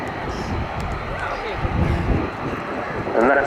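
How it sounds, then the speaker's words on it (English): An Airbus A400M military transport aircraft takes off at an airshow, its broad engine roar steady and fairly loud throughout, building slightly toward the end, with a commentator talking over it. "The next aircraft to take off we've already seen. That's the A400M from Airbus Defence and Space."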